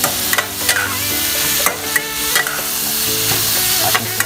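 Eel meat stir-fried with curry paste in a hot pan, steady loud sizzling with repeated scraping and clanking of the spatula as it is stirred, close up and without talk.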